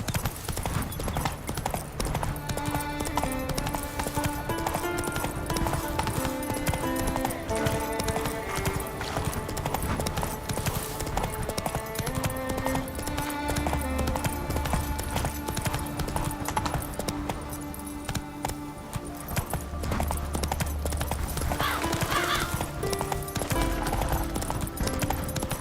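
Hoofbeats of Roach, Geralt's horse in The Witcher 3, galloping in a steady rapid clip-clop rhythm throughout, with a brief whinny, under game music and ambience.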